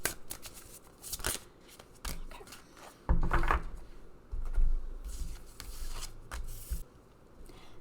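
Oracle cards from a unicorn-themed deck are shuffled by hand in a series of crisp riffles and soft papery slides, close and fairly quiet, with short pauses between bursts.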